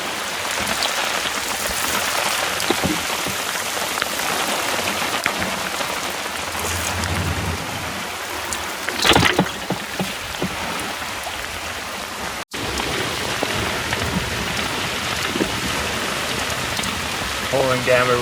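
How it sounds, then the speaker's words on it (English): Heavy rain pours down on a sailing boat at sea off the Queensland coast between Tangalooma and Double Island Point, a loud, continuous close-up hiss of drops drumming on the deck and canvas throughout. "Pouring down with rain out here."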